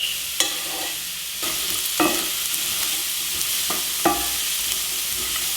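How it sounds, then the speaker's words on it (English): Diced pumpkin sautéing in coconut oil over medium heat, a steady close sizzle punctuated by three or four distinct clanks and scrapes of a utensil stirring in the skillet, without any talking. "Now I'm just gonna saute this pumpkin in a little bit of coconut oil on medium heat"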